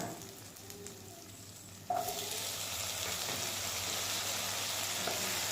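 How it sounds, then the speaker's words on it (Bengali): Potatoes hit a hot pan and start frying with a steady, soft sizzle that jumps up partway through and then holds, quiet and close with no talk. "আমি 2 মিনিটের মতো ভেজে নিব। এখন আলুটা দিয়ে দিলাম"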